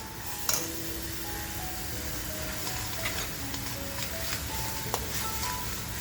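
Turmeric hits hot oil in a pan for a Malvani bombil curry, bringing a steady sizzle with spoon scrapes and stirring clatter and a sharp clink near the start.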